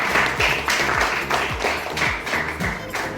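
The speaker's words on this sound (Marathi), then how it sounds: "टाळ्या वाजवा, मुलांना जरा प्रोत्साहित करा." An audience at a children's drama workshop and monologue event claps in applause, a dense run of repeated claps and taps, close and steady throughout, with no talking over it.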